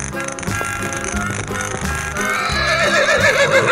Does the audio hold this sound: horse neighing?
yes